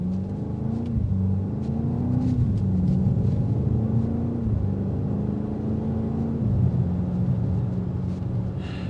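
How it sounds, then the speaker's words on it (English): Exhaust of a 2025 BMW X5 M Competition on the move, a deep, steady low rumble with gentle rises and falls in pitch as the engine eases through gears, heard from inside the cabin with no talking. "drive it and coast and hear that exhaust note"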